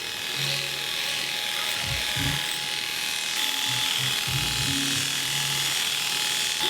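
An electric hair clipper buzzes steadily while cutting a man's medium-length hair over a comb, with faint low thumps and brief mechanical shifts under the continuous whine.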